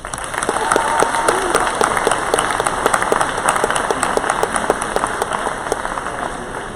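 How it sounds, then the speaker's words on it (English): A graduation crowd for the class of 2019 gives loud, sustained applause, with a dense wash of clapping and sharp individual claps standing out, and no voices over it. "Can we please give them all a round of applause?"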